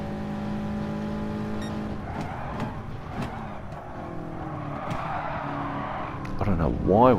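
A race car in a racing video game slides and squeals through a corner at Monza, its engine droning steadily with rising revs toward the end, while a voice talks over it.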